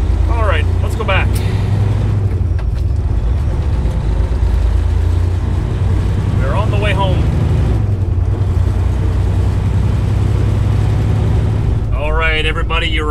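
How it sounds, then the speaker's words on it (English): A truck's tires spin in the cold, a steady low engine drone rumbling throughout while someone talks over it in short bursts. "Even my tires don't like the cold. They just keep spinning."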